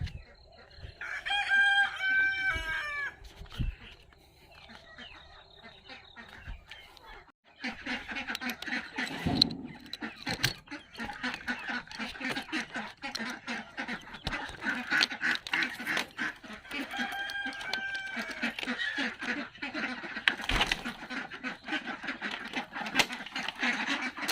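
Roosters crow and hens cluck close by in a coop, with duck quacks mixed into a busy, continuous barnyard chorus that rises after a brief lull.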